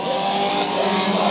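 Race cars roar off at the start of a heat race at Bakersfield Speedway, a dense, steady engine wall close by and loud throughout with no voices.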